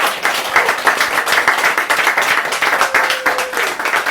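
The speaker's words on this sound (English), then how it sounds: "can we give a big round of applause for Dora for running our open mic for the event?" An audience at an open mic night in a bar bursts into steady, dense clapping and applause that fills the room for several seconds without letup.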